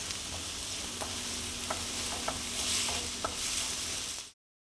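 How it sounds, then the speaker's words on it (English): About half a cup of onions simmers in a pan for pork involtini, with a quiet, even sizzling hiss and a few faint pops and ticks, ending abruptly. "about a half a cup of onions. And since it's kind of a lot, that'll probably take a good 10 minutes for them to simmer."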